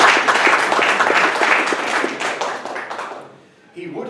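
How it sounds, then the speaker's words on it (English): A conference audience applauds with dense clapping that holds steady for a few seconds, then thins and fades out. "Shall we give him a round of applause?"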